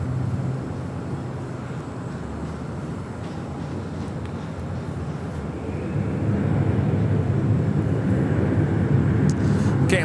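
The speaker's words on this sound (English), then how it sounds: "It's a 787-9 Dreamliner heading over to 24 left." A KLM Boeing 787-9 Dreamliner taxis or rolls toward runway 24 left at LAX, a continuous low jet rumble that swells louder partway through and then holds steady.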